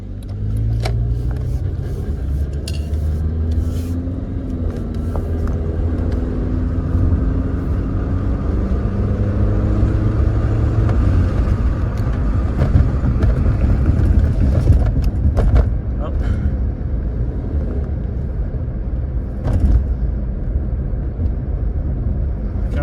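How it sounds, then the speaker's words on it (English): A 1997 Toyota Corolla fitted with a cold air intake drives on the road and accelerates, its engine droning loud and close from inside the cabin with rising tones as it speeds up, plus occasional clicks and rattles. "Get on the road, we're going to give it some gas."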